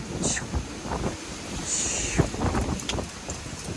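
Wind blowing across a sailboat in the Caribbean during hurricane season, a constant rushing gusty roar buffeting the microphone with faint rigging whistles and creaks throughout.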